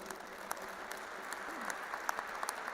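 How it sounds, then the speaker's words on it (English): Audience applause at an interfaith harmony conference, faint and distant, a steady wash of many hands clapping with scattered sharper claps throughout. "Give him a big applause."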